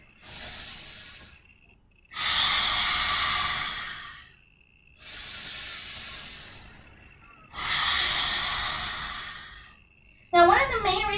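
Deep, slow yoga breaths taken in a held pose, four long airy exhalations and inhalations, each lasting about two seconds with pauses between, close and clear, followed by a brief voice at the end.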